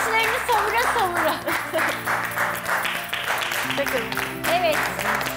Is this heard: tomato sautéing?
no